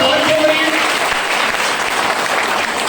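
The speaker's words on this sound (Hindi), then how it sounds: "ताली जोरदार बजाओ" A crowd at a motivational speech claps loudly and continuously, a dense wash of applause with a voice briefly audible at the start.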